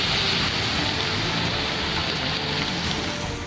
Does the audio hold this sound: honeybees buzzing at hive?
no